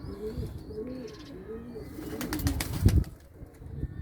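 Arap-breed pigeons cooing in a loft, a series of low, soft, repeated coos close by, followed by a brief scuffling burst near the end.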